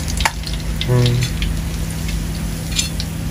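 Fish frying in a kadai of oil, a steady close sizzle with a brief hum of a voice partway through and a few faint clinks.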